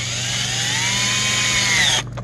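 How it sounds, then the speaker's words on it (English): A power drill whirs loudly and steadily up close, drilling through metal on a Mazda engine part, its pitch shifting slightly as it bites, then cuts off abruptly. "Drill a little bit more."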